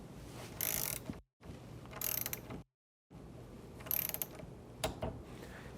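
An Atlas Copco MWR torque wrench ratchets as it tightens a joint, giving close mechanical clicking and whirring in three bursts with short silent gaps.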